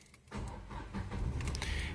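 A Renault Kwid's engine starts with a sudden rush of cranking and catching, then settles into a steady idle close by.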